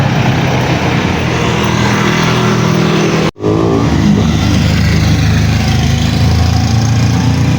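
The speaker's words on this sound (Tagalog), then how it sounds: "May sasakyan." A car on a road in Baguio passes close by, its engine loud and sustained, with a brief dropout midway before the steady motor sound resumes.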